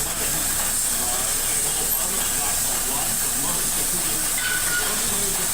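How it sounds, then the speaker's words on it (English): Steady, loud roaring hiss of a torch flame heating bronze for a patina, running continuously throughout, with no pauses. "now he's heating up the bronze to add the patina to it"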